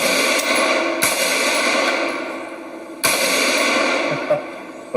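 An M16 rifle fires in full auto outdoors at targets such as a propane tank, loud continuous bursts with sharp onsets about two seconds apart, no talk.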